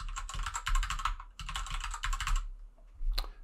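Password being typed on a computer keyboard, two quick bursts of close, crisp key clicks with a short pause between, then one final sharp keystroke.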